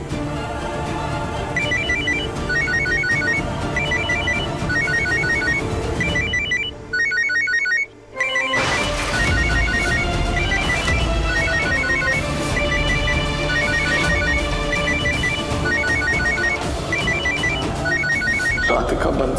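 A telephone rings repeatedly in a steady pattern of bright electronic tones over a busy music-like background, with a short pause partway through before the ringing resumes.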